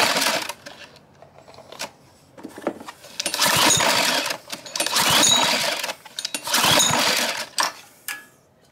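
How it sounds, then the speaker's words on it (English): A Honda 5HP engine on an Excell pressure washer is pull-started, giving several rough bursts of sputtering and cranking that rise and fall between quieter gaps and fade off at the end, loud and close. "We'll give it a couple tugs to see if we can get some going."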